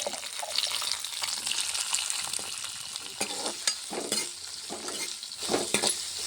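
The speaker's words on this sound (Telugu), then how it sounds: "కొద్దిగా నూనె పోసాను జీడిపప్పు కొలుసుని దోరగా వేయించి పెట్టుకోవాలి" Cashew nuts fry in hot oil in a pan in a village kitchen, giving a steady, dense sizzle with occasional stirring scrapes throughout, close and alone with no voices.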